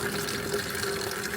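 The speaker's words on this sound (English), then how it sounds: "you can tap this with your elbow and it'll turn the water on" Water runs from an elbow-operated tap on a water tank fitted to a 2005 Mitsubishi L200 K74, a close, steady gushing stream that continues without a break.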